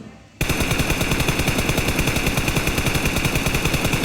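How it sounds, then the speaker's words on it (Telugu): An M4 rifle in the PUBG BGMI mobile shooter fires in a long, loud, continuous automatic burst of evenly spaced shots, starting abruptly after a brief quiet moment and running steadily to the end. "కానీ ఎం ఫోర్ ట్రై చేస్తున్నాను ఇప్పుడు"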